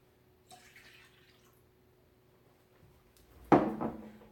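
Water poured into a measuring cup in a home kitchen while making apple cinnamon crepes, a short, loud splashing burst near the end after a faint earlier trickle.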